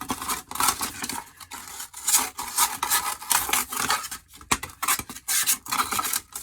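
Fine 400 grit sandpaper, folded over a fingertip, rubs along the fret edges of a bass guitar neck in quick, uneven back-and-forth strokes, a close, soft scratchy rasp throughout.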